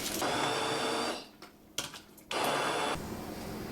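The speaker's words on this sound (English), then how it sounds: "I'm going to put them in the blender" A kitchen blender purees roasted salsa verde ingredients, whirring loudly in two bursts separated by a brief pause, then settling into a lower steady hum.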